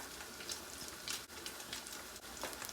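Spam slices sizzle steadily in a hot frying pan, a continuous crackling hiss with small pops, close and moderately quiet.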